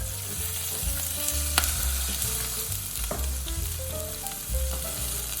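Cut salmon pieces frying in a pot with butter and cooking oil over lowered heat, a loud continuous sizzle broken by irregular bursts of spattering and stirring clatter.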